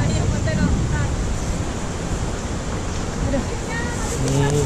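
Waves wash steadily onto a beach set inside a forest, a continuous close roar of surf and wind with faint voices drifting underneath.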